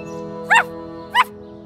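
Cartoon puppy in a kids' animated show giving two short, bright barks about half a second apart over a soft steady background tone.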